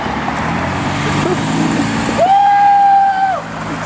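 A car horn sounds one sustained, loud honk, held for about a second over street traffic noise during a roadside honk-for crowd event on Central Avenue.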